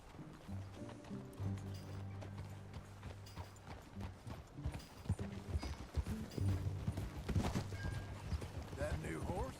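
Horse hoofbeats clop in a steady riding rhythm in the video game Red Dead Redemption 2, close and continuous under a layer of music and ambient noise, no clear talk.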